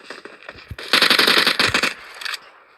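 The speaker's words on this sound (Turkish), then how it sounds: "Silah sesleri geliyor" Rapid bursts of video game gunfire, a sustained automatic volley in the middle after a few scattered shots, loud and close.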